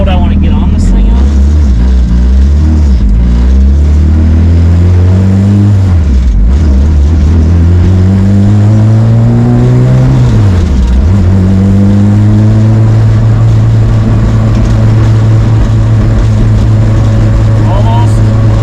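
Honda Civic with a B18 engine pulling away and accelerating, its engine note climbing in pitch through repeated gear pulls before settling into a steady drone, close and loud, with a person talking over it.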